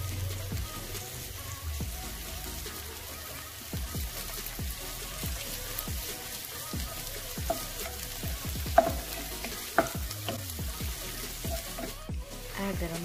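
Ginger garlic paste frying with mutton keema in a pan, a steady close sizzle and crackle with occasional stirring clinks throughout, no voices.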